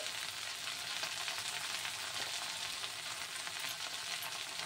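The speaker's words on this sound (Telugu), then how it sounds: "ఇవన్నీ వేసేసి బాగా ఫ్రై చేసుకోవాలి" Coriander, fresh and dried red chillies, tamarind, coriander seeds and fenugreek frying in hot oil in a kadai for coriander chutney, giving a steady, even sizzle throughout with no talk.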